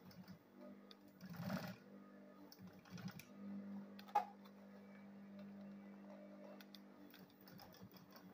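Sewing machine stitching a lunch bag, a quiet steady mechanical hum with faint ticking and a few handling knocks and clicks.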